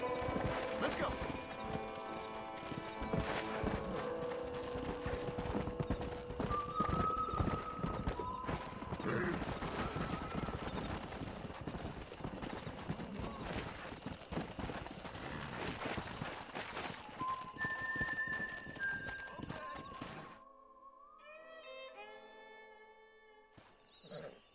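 Horse hooves clip-clop steadily in Red Dead Redemption on PS3, beneath game music and a voice, with a whinny, before the noise drops away near the end into quieter tones.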